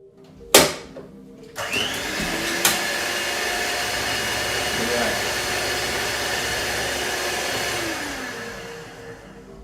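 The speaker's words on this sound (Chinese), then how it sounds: "打蛋器突然自行启动" An electric egg beater on a kitchen table suddenly starting on its own, a sharp click followed by a loud, steady motor whir that holds for several seconds before fading slightly.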